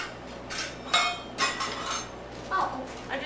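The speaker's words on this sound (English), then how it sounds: "Would you look in that drawer over there and get the measuring spoons out for me?" Metal measuring spoons pulled from a kitchen drawer clink and rattle in several quick, bright bursts close by, with brief pauses between them and faint household background.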